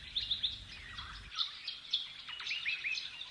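A Vogelkop gardener bird calls in forest with a series of thin, high chirps and whistled notes, fairly faint and scattered over a low rumble that fades early.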